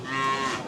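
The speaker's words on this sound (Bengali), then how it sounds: "ও আছে গাই বাছুর একটা" A cow at a cattle market gives one short, close, loud moo with a steady tonal low call, heard alone.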